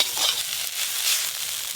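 Bottle gourd greens frying in a pan give a steady, bright sizzle with faint stirring scrapes, close and continuous over a short stretch without voices.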